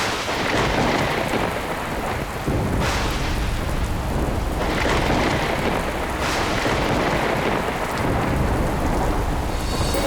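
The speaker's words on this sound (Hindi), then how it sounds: "ये वर्षा तो रुकने का नाम ही नहीं ले रही।" Heavy rain pours steadily while several deep rumbles of thunder roll through, the downpour loud and constant from start to finish with no voices.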